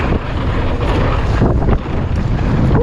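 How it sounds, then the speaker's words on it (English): Wind roars across the microphone while mountain biking down a canyon trail, a loud, continuous buffeting rush with brief surges and no talking. "Oh, it's windy."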